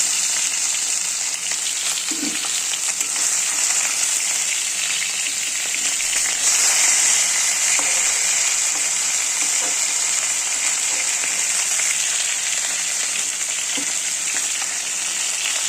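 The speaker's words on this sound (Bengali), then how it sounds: "দেখো মাছটা আমার ভাজা হয়ে গেছে, এবার আমি এক একটা করে মাছ তুলে ফেলবো।" Gurjali fish frying in hot oil, a loud, dense and steady hiss of sizzling close by, with a few faint clinks and no talking.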